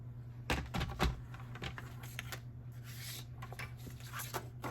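Card stock for card making is cut with a paper trimmer, giving a quiet series of crisp clicks and scrapes, with a few louder snaps early on over a low background hum.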